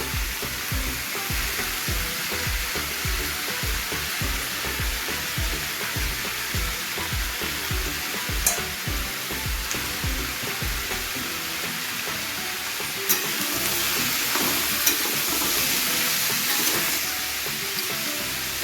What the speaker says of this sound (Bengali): আলুগুলোকে একটু লাল লাল করে ভেজে তুলে নিতে হবে